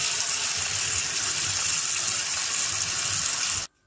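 Steady water flow, like a tap running into a sink, a continuous broadband hiss and gurgle that holds evenly throughout before stopping abruptly near the end.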